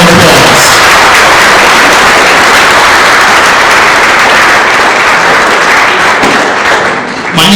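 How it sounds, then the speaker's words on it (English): A banquet audience gives a round of applause for track and field Hall of Fame inductees, a loud, dense, continuous wash of clapping that fills the room and tapers slightly at the end. "Let's give them all a great round of applause."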